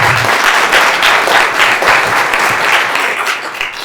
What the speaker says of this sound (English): So round of applause for Burnt Cove Market.